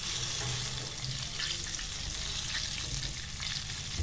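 Pieces of KFC-style chicken frying in hot oil, a steady dense sizzle and crackle holding at an even level throughout, close by with no one speaking.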